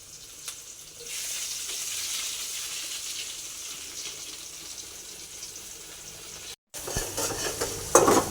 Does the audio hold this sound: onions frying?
yes